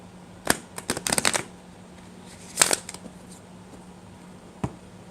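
A deck of tarot cards is shuffled in short riffling bursts, with one long flurry early, another burst partway through and a single snap near the end. The cards are close and no one talks.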